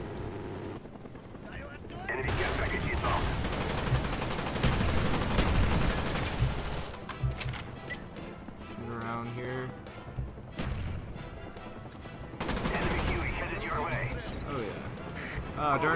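Rapid, sustained bursts from a Death Machine minigun in Black Ops 1 multiplayer, loud dense automatic fire with brief pauses and other game effects, while someone talks over parts of it.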